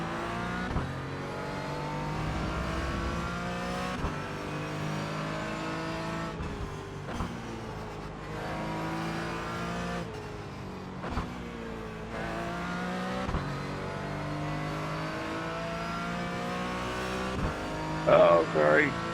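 An Aston Martin race car's engine revs hard during a race, climbing through gears in rising whines with sharp shift breaks, loud and continuous from onboard, with a driver talking over it.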